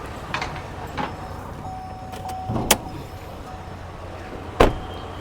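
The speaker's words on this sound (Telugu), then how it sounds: "బానెట్ కూడా ఒకసారి ఓపెన్ చేసి చూపిస్తాను సార్" The bonnet of a 2018 Hyundai i20 top-end diesel is opened: scattered light mechanical clicks, then a sharp latch clunk, and a firmer thud near the end against a quiet background.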